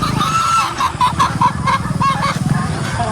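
Chickens cluck repeatedly close by, a busy run of short calls over a steady low rumble of background noise.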